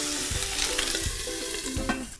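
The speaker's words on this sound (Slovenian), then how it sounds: "zdaj pa sam počakava, da se lepo popeče na eni strani, potem začinva" Chicken drumsticks fry in a covered pan with no oil, giving a steady loud sizzle with a few soft clinks and scrapes.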